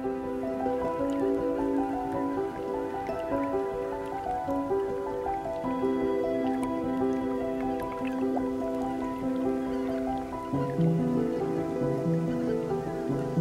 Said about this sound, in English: I hear subtle splashing and soft gnawing, the sound of beavers.